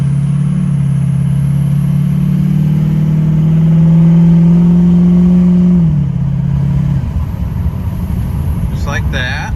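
6.0 Powerstroke diesel truck shifting through gears under a tap shifter, a steady loud engine drone whose pitch climbs gradually, then drops abruptly as a gear change comes through, and settles into a rougher rumble.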